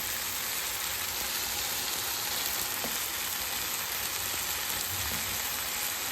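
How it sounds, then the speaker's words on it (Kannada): Onion, tomato and masala frying in a pan, a steady broadband sizzle running evenly throughout with faint stirring, no talk. "ಇದನ್ನ ಉಳ್ಳಾಗಡ್ಡಿ, ಟೊಮೆಟೊ ಅದೆಲ್ಲ ಹಾಕೊಂಡು ಚೆನ್ನಾಗಿ ಫ್ರೈ ಮಾಡೋನು."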